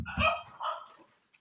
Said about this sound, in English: The dog just walked in.